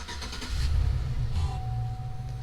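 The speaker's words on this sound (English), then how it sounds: "So we need to start the truck." A truck engine turns over and settles into a steady running idle, a loud low rumble close by with a brief higher whine as it catches, no talk over it.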